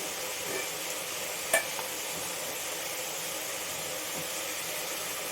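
Turmeric and spices frying in a pan for a home-cooked kadlekalu gojju, a quiet, steady hiss of frying with one brief clink of a utensil early on, and no voices.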